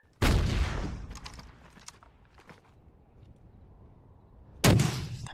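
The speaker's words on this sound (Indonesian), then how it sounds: "mereka langsung menghujaninya dengan tembakan" Two loud bursts of gunfire, one at the start and one near the end, with scattered fainter cracks and thumps in between, from Soviet troops firing on Afghan Mujahideen during the Soviet-Afghan War.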